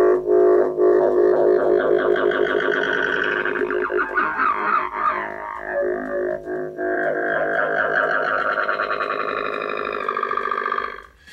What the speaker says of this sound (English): make really warbly, crazy sounds that on one end of my XY pad will sound relatively normal